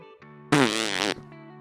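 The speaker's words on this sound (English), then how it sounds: "does the thing where he blows into the crook of his elbow to make a fart noise" A loud, buzzy fart noise made by blowing into the crook of an elbow, a single sustained raspy burst of about half a second, set against a quiet tonal game background in Dream Daddy.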